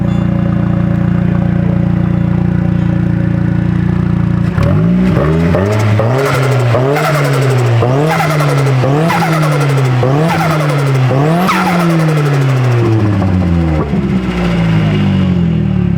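A loud Nissan S15 engine with a refreshed turbo idles with a deep rumble, then revs hard repeatedly, pitch surging up and down in quick rising bursts, close and aggressive.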